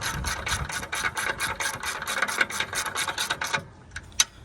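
A ratchet clicks rapidly and evenly, tightening a radiator fan bracket on a 2015 Toyota RAV4, about a dozen close, crisp clicks that stop abruptly, followed by a couple of isolated taps.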